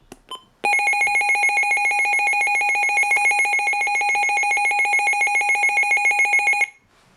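A Midland WR400 weather radio sounds its alert tone: a loud, steady electronic warble that pulses rapidly and holds for about six seconds before cutting off.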